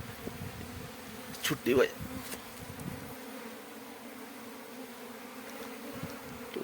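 Honeybees buzz steadily around an opened hive frame while a keeper searches for the queen, with a louder close pass of a bee midway and a voice speaking briefly over the hum.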